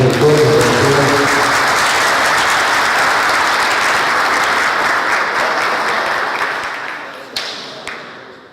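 Loud, dense applause from a lecture audience, sustained for most of the time before tapering off, with a few scattered final claps and thumps near the end.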